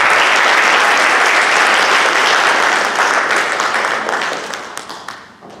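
Loud audience applause at an immigrant-protection church symposium in New Jersey, thick and sustained before tapering off into scattered claps near the end.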